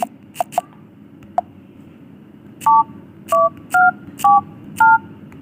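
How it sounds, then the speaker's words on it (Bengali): A mobile phone keypad sounds while a USSD code is dialed, a few soft clicks followed by five clear, evenly spaced dual-tone beeps, loud and close. "ডায়াল করে দিচ্ছি"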